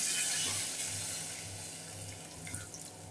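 Water pours steadily into a pan of pumpkin curry, a continuous close splashing rush that gradually softens as the pan fills.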